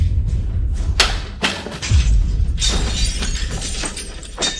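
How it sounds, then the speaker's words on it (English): Objects being smashed, with several sharp glass-shattering crashes and heavy thuds in quick succession, loud and close, with no voices. "Smash it, smash everything."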